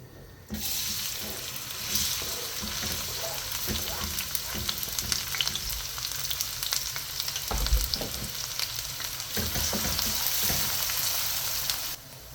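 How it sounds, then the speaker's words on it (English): Diced onion hitting a hot pan for a lasagne sauce, a steady loud sizzle and crackle with occasional stirring scrapes, continuous for about eleven seconds, close and with no talk. "This is our diced onion, and now we are going to dip them into our pan."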